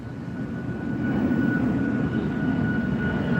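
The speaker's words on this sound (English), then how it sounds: "There's a plane taking off." A plane taking off near a lakeside, its engine a steady low broadband roar with a faint high whine, holding at the same loudness throughout with no talk over it.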